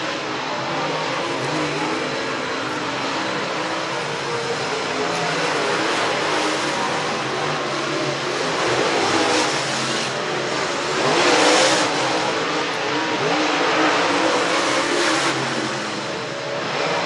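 Dirt late model race cars running hot laps at Needmore Speedway in Norman Park, Georgia, a continuous loud roar of engines passing and revving on the dirt oval, with swells as cars go by.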